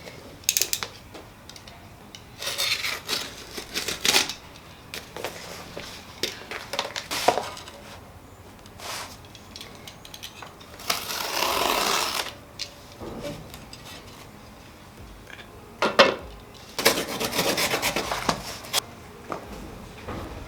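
A piece of cardboard from a cooker's box is cut by hand in bursts of scraping, tearing strokes with short ticking pauses between, fairly close and with no talking.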